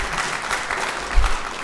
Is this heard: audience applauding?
yes